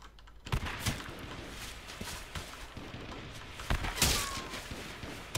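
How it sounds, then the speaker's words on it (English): Scattered gunshots in a sniper video game strike a tree close by, coming as sharp separate cracks and thuds over several seconds, with one louder burst near the end over a steady outdoor background. "They're shooting the tree right in front of me"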